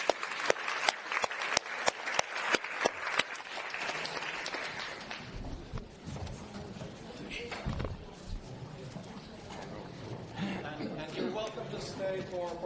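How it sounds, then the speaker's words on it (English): Rhythmic, evenly spaced claps open at a citizens' dialogue on democracy, then give way to talking and chatter from the room as the applause fades. "with a good round of applause once again"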